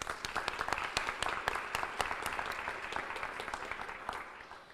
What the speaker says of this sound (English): But just another round of applause for all the teachers and the students here.